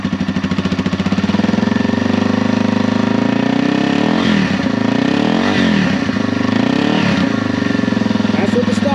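A stock-exhaust Yamaha TW200 motorcycle idles with a loud, steady, close-up thumping drone, briefly revving up a few times around the middle before settling back.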